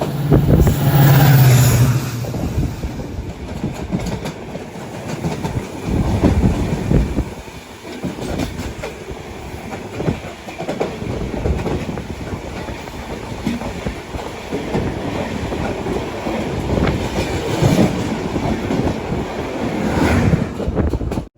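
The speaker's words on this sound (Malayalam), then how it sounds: "ട്രെയിൻ ഇപ്പോൾ ലോണ്ട സ്റ്റേഷനിലേക്ക് എത്തിക്കൊണ്ടിരിക്കുകയാണ്" The KSR Bengaluru–Sangli Rani Chennamma Express rumbles steadily along the rails approaching Londa station, with rhythmic clickety-clack and broadband rushing noise, loud and close throughout, with some wind buffeting the microphone.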